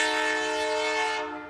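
The Canadian Pacific holiday train sounds a long, steady horn as it rolls through Golden Valley on a rainy night, loud and sustained before fading slightly at the end.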